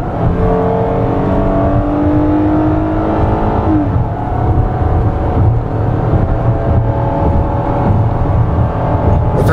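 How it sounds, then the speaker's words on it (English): A 2014 Kia Sorento engine accelerates steadily, its smooth, loud, close-up hum rising in pitch as it builds speed, with no talking. "this engine's very smooth and has plenty of passing power"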